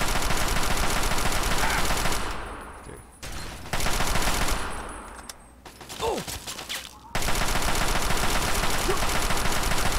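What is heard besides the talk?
gunfight with machine gun fire in video game Fallout 3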